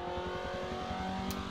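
A Mazda NA2 engine holds a steady, buzzing high rev as the car laps a race track, loud and close with a constant droning tone.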